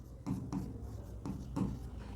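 A pen scratches out notes on paper in short bursts of writing, close and soft, with brief pauses between strokes and no talking.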